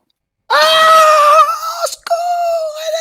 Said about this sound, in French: Tu entends un hurlement.